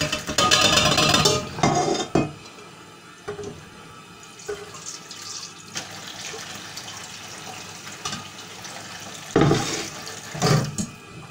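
Tap water runs into a kitchen sink as rinsed mince is swirled and strained, with loud splashing bursts at the start and near the end and quieter trickling in between.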